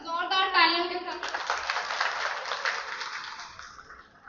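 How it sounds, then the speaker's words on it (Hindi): Applause from an audience at a bank's government-scheme information meeting follows a voice and swells into a steady wash of many hands clapping, then slowly fades out. "बहुत जोरदार तालियों के साथ"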